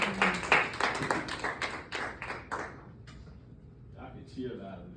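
Audience at a JROTC rifle camp certificate ceremony clapping for cadets, a burst of close, sharp applause that fades after a few seconds, with people's voices over it.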